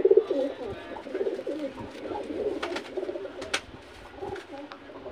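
Pigeons of a patterned, netted breed coo in low, repeated calls, fairly close and continuous, with faint chirps and other background noise around them.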